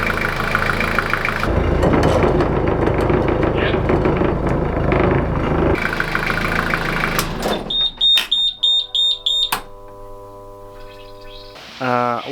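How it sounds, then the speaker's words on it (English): A newly installed marine diesel engine in a wooden boat cranks and runs at its first start, a loud rough rumble with pauses, followed by shrill electronic beeping and tonal alarm-like sounds. "Alright, we're going to fire up the engine."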